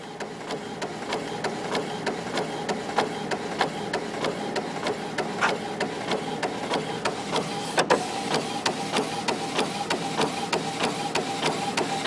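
An Epson WorkForce 7210 printer fitted with a continuous ink refill system runs steadily with a close, even mechanical whir and a fast regular ticking of the print head, plus a few sharper clunks along the way.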